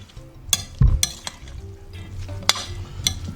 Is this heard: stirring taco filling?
yes